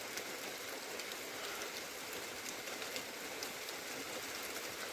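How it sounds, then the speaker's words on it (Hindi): A sudden heavy rain falls in a steady, dense hiss with no break and no one speaking, moderately faint and even throughout. "अचानक से ना बारिश हो चुकी है"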